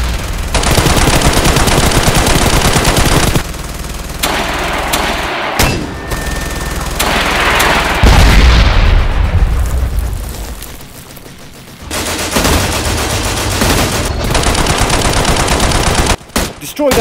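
Toy army men stop-motion battle scene with rapid machine gun bursts, loud and close, broken by short gaps, booming blasts and a whooshing explosion in the middle, then more sustained gunfire.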